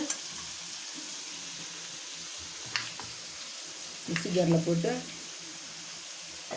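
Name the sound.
food sizzling while sautéing in pan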